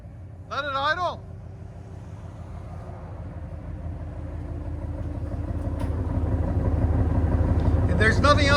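A 2012 RAM 1500 with a 5.7L HEMI V8, headers and a muffler delete idles with a low, steady rumble that grows gradually louder, while someone talks briefly at the start and other voices chatter near the end.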